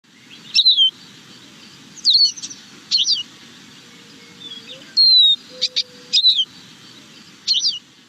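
Several short, high chirping California scrub jay calls come in separate bursts over a quiet backyard background, with a faint low rumble underneath.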